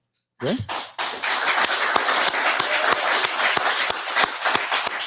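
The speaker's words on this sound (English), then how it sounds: "Spontaneous one final applause." Audience applause at a live event in downtown Batavia: a dense, steady wash of many hands clapping that starts abruptly and carries on at an even level.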